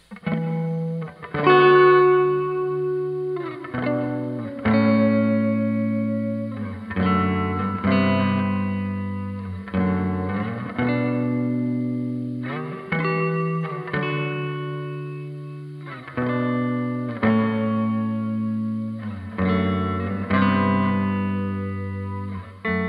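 Distorted electric guitar through a Boss SD-1 overdrive and Behringer RV600 reverb plays sustained chords and riffs with a wash of reverb, continuous and fairly loud throughout, no voices.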